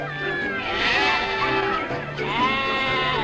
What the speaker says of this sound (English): This baby goat displays his affection for the media